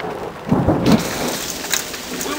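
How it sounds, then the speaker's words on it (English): Hail falls during a summer thunderstorm beside a creek, making a dense, steady patter across the whole clip, with a brief louder rumbling burst near the start. "It's hailing."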